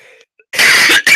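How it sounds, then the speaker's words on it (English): A person coughs in a short burst, two loud close coughs after a faint wheezy breath and a brief pause, with the speaker noting wheezing and a temperature change. "Let me cough for a second."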